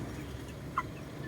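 Bisaya chickens give a single short cluck close by over a low, steady murmur of background noise, with little else standing out.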